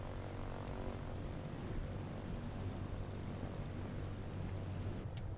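A Robin DR400 propeller plane in Microsoft Flight Simulator 2020 gives a steady, close engine drone, continuous and unbroken with no talking.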